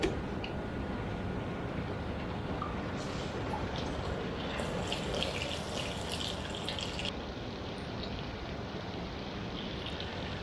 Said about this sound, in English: Letting that water out.